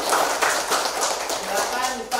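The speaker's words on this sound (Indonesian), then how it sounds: "Iya, tepuk tangan dulu." A classroom of students applauds with a dense patter of many hands that holds steady throughout, while voices are mixed in with the clapping.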